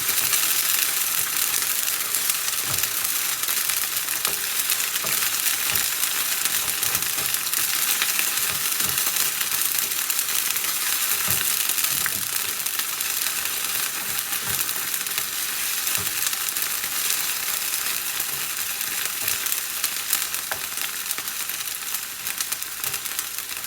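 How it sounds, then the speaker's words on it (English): Ginger garlic paste frying in a pan for chicken curry, a continuous bright sizzle with occasional stirring scrapes and clicks, steady and close, with no voices. "And now I'll add the ginger garlic paste. We'll fry this for a few minutes."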